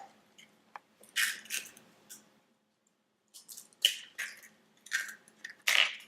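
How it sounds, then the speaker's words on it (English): Two eggs are cracked into a big bowl for carrot cupcake batter, with close, quiet sharp cracks followed by soft wet squishes and drips, separated by a short silence. "In a big bowl, I'm going to crack in both eggs."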